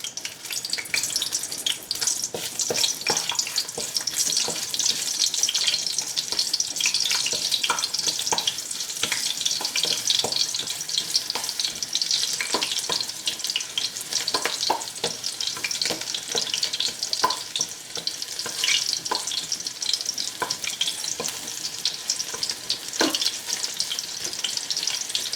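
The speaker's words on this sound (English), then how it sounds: "I'm going to add some garlic to flavor the oil" Garlic and ginger frying in vegetable oil in a pan for a Jamaican brown stew, a steady bright sizzle with scattered crackles and pops running continuously, close and fairly loud, with no voices.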